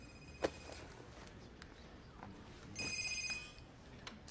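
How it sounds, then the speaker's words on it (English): Faint electronic cell phone ringtone going off in a quiet courtroom, a short trilling burst near the end amid soft room noise and a sharp knock or footstep earlier. "There's no cell phones in my courtroom, Mr. Rice."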